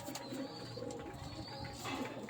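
Pigeons coo softly and steadily in a low, murmuring hum, with faint chirps and a constant background hiss throughout; no voices.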